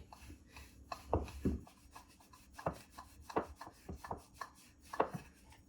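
A rolling pin presses bread and potato dough pieces thin on a board, making a steady run of soft rubbing strokes and light wooden knocks, close and fairly quiet.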